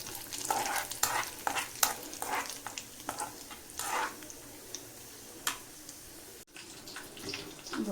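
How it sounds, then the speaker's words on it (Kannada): Cashews, almonds and pistachios fry in hot fat for a tadka for phirni. A steady close sizzle carries on throughout, broken by repeated scraping stirs of a spoon. "ನಾನೊಂದು ಬೌಲಷ್ಟು ಕ್ಯಾಶು, ಬಾದಾಮ್, ಪಿಸ್ತಾ ತೊಗೊಂಡಿದ್ದೀನಿ. ಇದನ್ನು ಒಂದು 30 ಸೆಕೆಂಡ್ಸ್ ಫ್ರೈ ಮಾಡೋಣ."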